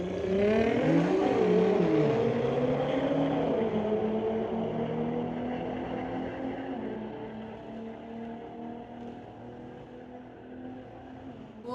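A 2019 BMW M5 and a Nissan launch side by side down a drag strip at Mission Raceway. Their engines rise in pitch through the gears and then fade steadily into the distance, with no talk over them.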